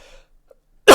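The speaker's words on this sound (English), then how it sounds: "I'll cough a little bit" A single short, loud cough bursts out near the end after near silence, close and abrupt.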